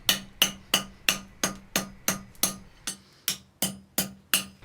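Blacksmith hammering the end of a hot steel bar to upset it into a square corner, a dozen sharp ringing hammer blows struck at a steady, even rhythm, close and loud.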